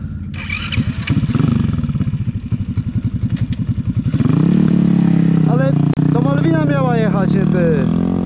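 A Romet Ogar moped putters with a rapid pulsing two-stroke beat as it climbs uphill, then the engine note rises and steadies near the listener while people talk and shout over it.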